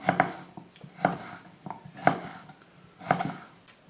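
A knife cuts a large mango lengthwise into pieces on a board, about eight sharp chopping taps at an uneven, unhurried rhythm, close and fairly quiet, with no one speaking.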